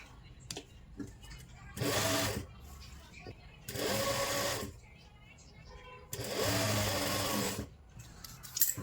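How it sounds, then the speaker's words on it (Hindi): A sewing machine stitches the edge of a lined kurti in three separate bursts of rapid mechanical whirring, close and fairly loud. Someone talks quietly in the pauses between the runs. "तो अब हम यहाँ पर लगाएंगे किनारे के ऊपर सिलाई"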